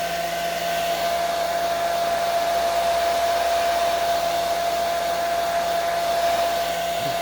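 A hair dryer runs steadily and loudly for several seconds, drying layers of alcohol ink on a butterfly craft piece, with a constant whine and no talking.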